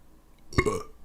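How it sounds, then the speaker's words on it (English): A single short, deep burp, close and fairly loud, rises out of a quiet background and fades within half a second. "I burped."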